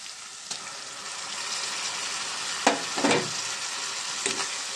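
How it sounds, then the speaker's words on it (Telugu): Raw prawns and vegetables fry in a pan with a steady, close hiss of oil and a few louder scraping stirs and splutters partway through, with no voices. "దీన్ని మంచిగా ఫ్రై చేద్దాం."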